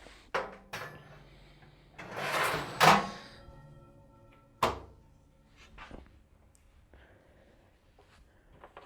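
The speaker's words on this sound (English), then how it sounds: "We can now replace the shelves." Metal shelves slide back into a fan oven after an element replacement, giving a few scraping rattles and sharp clunks with quieter knocks between them and no voices.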